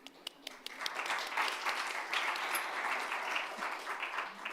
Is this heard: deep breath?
no